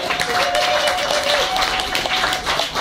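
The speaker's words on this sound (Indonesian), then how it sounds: "berikan tepukan gemuruh untuk Ija Amran" An audience applauds Ija Amran at an event, with steady, dense clapping sustained throughout and a faint tone running beneath it.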